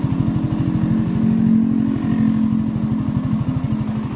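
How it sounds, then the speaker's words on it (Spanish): Suzuki Gixxer 150 Fi motorcycle engine idling, a steady low, even putter of rapid regular pulses heard up close at a moderate level, alone without speech. "si me acerco a la moto notarán que casi no se escucha el motor"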